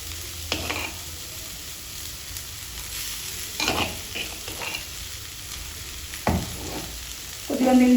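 Cooked rice is tipped into a pan of palak and peas and stirred, a soft ongoing sizzle broken by several scraping, clattering spoon strokes and a faint beep near the end.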